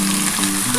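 Cabbage drops onto potatoes already frying in a pan, a loud, close burst of sizzling that lasts less than a second.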